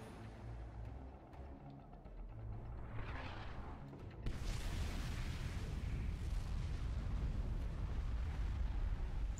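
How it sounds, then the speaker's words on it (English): A nuclear missile launches and detonates in Command & Conquer 3: Kane's Wrath, a rising rushing whoosh followed by a sudden heavy blast that settles into a sustained deep rumbling roar. "Nuclear missile launched."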